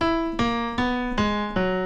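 Four evenly spaced piano notes, each struck and left to ring, forming a short melodic motif from an Into the Woods song, with a slightly sour, off-key note in it.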